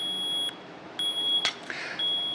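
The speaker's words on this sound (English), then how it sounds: "It's going to start beeping." Electronic alarm on a battery-powered wireless ADJ Mirage Q6 lighting fixture beeping in loud, steady high-pitched pulses, roughly one every half second, close by with faint handling noise between beeps.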